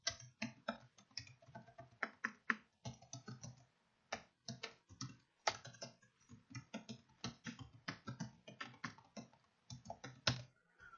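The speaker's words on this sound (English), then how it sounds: "you can type in the website" Rapid keystrokes on a computer keyboard entering a website address, a close, steady run of crisp clicks in quick uneven bursts with brief pauses, no voices.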